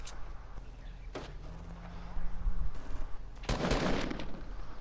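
Gunfire in the video game Fortnite: a few sharp shots and a short burst of rapid fire, fairly close, over a low background hum, without clear speech.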